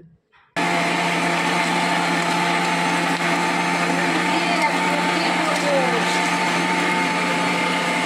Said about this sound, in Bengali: সরষে দিতাম না তো একটু দিয়ে দিই, অল্প করে দিই, ওই জন্য দিলাম কটা আবার মিক্সিতে